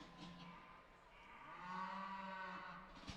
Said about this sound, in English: she doesn't speak English because she's a cow